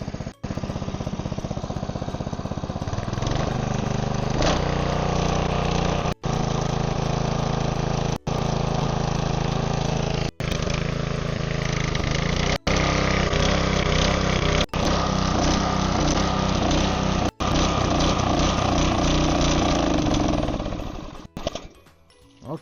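A LANDHONOR LHR-TWP80 water pump's 7.5 hp gasoline engine runs steadily and loudly close by, a continuous rough drone broken by several brief dropouts, then cuts off near the end.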